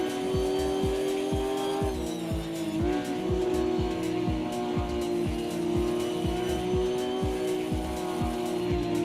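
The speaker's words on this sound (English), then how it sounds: "Shall we put it on a different car so you can hear it have a different sound?" A Porsche race car in the Automobilista 2 racing game holds a steady engine note, with rapid rhythmic gear or tire pulses and one brief pitch dip, alone and fairly loud.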